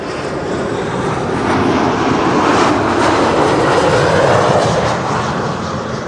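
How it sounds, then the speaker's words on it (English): KLM Embraer 190 jet arriving at Amsterdam Schiphol, a loud, continuous engine roar that swells in the middle as it passes close by, then eases slightly, with no talking. "arriving for Cardiff, Embraer 190."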